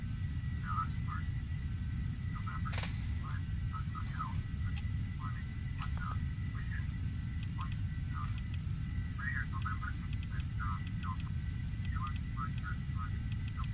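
A Carenado EMB505 Phenom 300 jet in the FSX flight simulator held at full throttle for takeoff, its engines a constant broadband roar throughout, with scattered chirping and a brief click layered over the drone.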